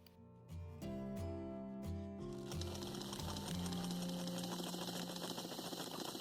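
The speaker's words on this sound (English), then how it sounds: "Stitch 1/4 inch down the side and top part of the collar." Sewing machine stitching the side and top of a shirt collar a quarter inch in, with a steady, close mechanical whirring hum that starts in short stop-and-go bursts and then runs continuously.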